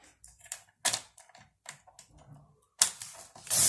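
Paper being trimmed for a handmade mini journal: a string of short, crisp snips and cuts, close and sparse, with quiet pauses between.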